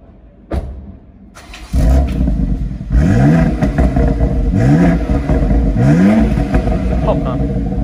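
A tuned 600 hp BMW X4 M Competition starts up loudly nearby, settles into a rough idle, then gets three strong revs that climb and fall back in turn.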